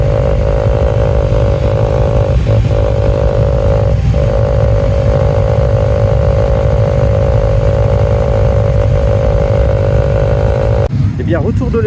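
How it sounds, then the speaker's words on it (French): CFMOTO 700 MT motorcycle engine on a test ride, a loud, steady droning hum with a strong even tone throughout, cutting off abruptly near the end. "retour de l'essai avec la CF Moto 700 MT"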